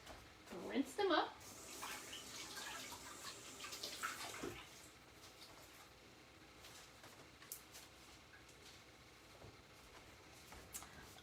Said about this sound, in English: Now, I'm going to take some green onions, not a lot because I seem to be the only one that likes them. Rinse them up.